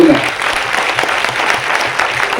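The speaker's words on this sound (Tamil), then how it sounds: "பெரிய கைத்தட்டல் கொடுங்க." A large audience breaks into steady, dense applause at a stage tribute ceremony held by film celebrities, loud and continuous throughout.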